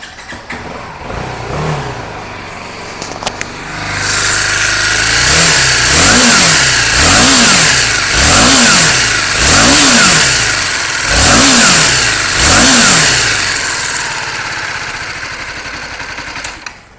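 A BMW G 310 GS motorcycle engine idles, then revs repeatedly in a steady series of rising and falling throttle bursts, loud and close.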